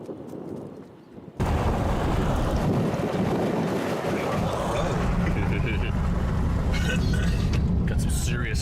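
Strong storm outflow wind buffets the microphone in open fields near a horseshoe-shaped storm cloud, a loud, continuous roaring rumble that kicks in abruptly after a quieter start and holds steady to the end.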